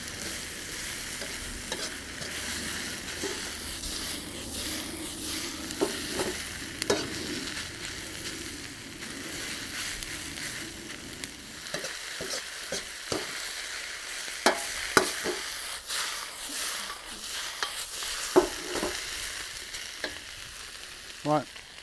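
Chicken and seasonal vegetables stir-frying in a hot pan give a steady soft sizzle, broken by repeated scraping and tossing strokes from stirring, close by with no talk.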